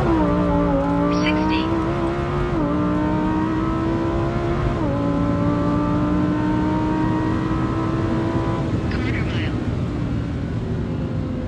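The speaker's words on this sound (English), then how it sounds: "we're gonna go ahead and launch it and see if we can do a quarter mile" Lamborghini Huracan STO V10 launching for a quarter mile, a loud continuous engine roar climbing in pitch through each gear with brief dips at the shifts, heard close and sustained throughout.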